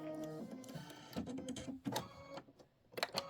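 Kimberbell embroidery machine stitching the outer border of a quilt block frame; a close mechanical whir with shifting tones, rapid needle rhythm and short pauses, steady and moderately quiet.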